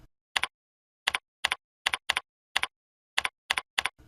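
Isolated keystrokes on a computer keyboard, about nine crisp clicks spaced irregularly, some in quick pairs, with silence between them.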